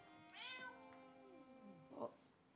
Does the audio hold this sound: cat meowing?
yes